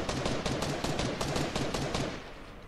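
Rapid bursts of gunfire in a Fortnite Season 10 match, repeated shots in a steady rattling rhythm that continues for most of the moment before fading slightly at the end.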